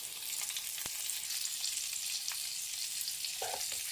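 Onions fry in a pan with a steady, even sizzle, and a few faint clinks of stirring come through near the end.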